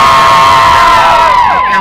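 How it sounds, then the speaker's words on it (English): Crowd at an outdoor patriotic program cheering loudly, with high whoops and children's shouts rising over a sustained roar. "Give them a big round of applause while you can."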